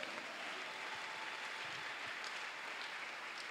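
A church congregation applauds in a steady, dense wash of clapping that fills the whole stretch evenly and without pause.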